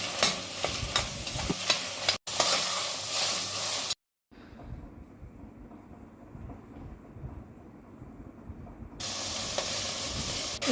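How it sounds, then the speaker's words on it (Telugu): Sweet corn and green peas being stirred in a sizzling frying pan for veg pulao: steady scraping and frying hiss, broken by two abrupt cuts, with a quieter, muffled stretch in the middle before the louder stirring returns. "ఆ తర్వాత స్వీట్ కార్న్ వేసి మళ్ళీ ఒకసారి కలుపుకోవాలి."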